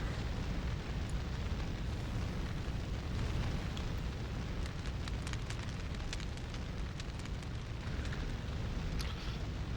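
A raging fire in the video game Breath of Fire 4 roars as a dense, constant rumble with crackling bursts, loud and unbroken throughout with no voices.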